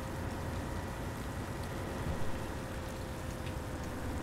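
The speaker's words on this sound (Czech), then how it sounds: "No a hezky 60 a déšť nějak nechce polevit teda." Steady rain falling on a passenger train in Train Simulator 2019, on the Krkonoše line between Trutnov and Svoboda nad Úpou, a dense continuous hiss with a low rumble beneath, even and unbroken.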